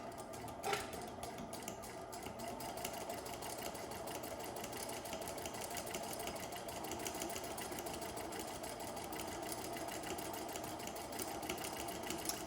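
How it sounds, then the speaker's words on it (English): A sewing machine runs steadily while top stitching fabric with the presser foot lowered, giving a continuous, even mechanical whir and rapid needle chatter at close range for the whole stretch, with no talking. "I'm going to drop my sewing foot, I'll sink my needle, I'll go ahead and forward stitch a couple and back tack to sink"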